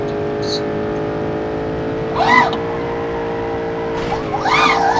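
A BMW M1 in BeamNG Drive holds a steady engine drone, and two short bursts of tyre squeal from skidding cut through it near the middle and end, with a voice heard faintly.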